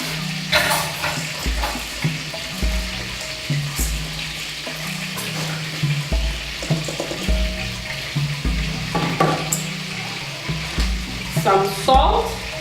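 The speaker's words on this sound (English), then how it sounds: "Into this, I put some washed rice." Washed rice tipped into a hot pan, hissing and sizzling with wet stirring and scraping, uneven bursts of frying noise with a voice speaking over them.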